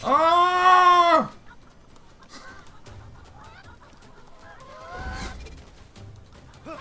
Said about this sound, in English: Listen to these chickens.